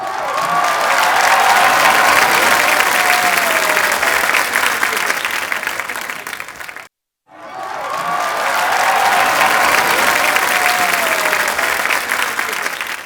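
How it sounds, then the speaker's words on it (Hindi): A studio audience on a comedy show applauds loudly and steadily for Shakti Kapoor's entrance, with some cheering mixed into the dense clapping, broken by a brief silent gap midway. "तो इनके लिए तालियां हो जाएं भरपूर"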